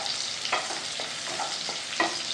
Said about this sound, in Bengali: রসুন আর লঙ্কা কুচি, একটু ভাজা ভাজা করে নিই।